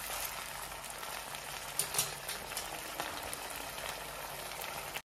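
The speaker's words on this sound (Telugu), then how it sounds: "సిమ్లో పెట్టేసి కొంచెం 2 నిమిషాలు ఇట్లా ఫ్రై చేయాలి." Chicken lollipop mixture frying in a pan over a low flame, a steady close crackle and hiss running evenly throughout with a couple of slightly louder pops midway.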